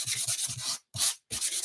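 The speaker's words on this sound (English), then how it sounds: "it doesn't need a lot of sanding, and it probably sounds horrible on camera" Small piece of 320 grit sandpaper rubbed on wood in quick close scratchy strokes, three bursts separated by short pauses.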